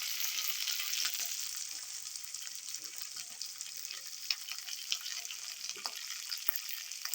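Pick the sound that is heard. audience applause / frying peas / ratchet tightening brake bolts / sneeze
frying peas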